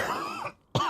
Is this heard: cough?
yes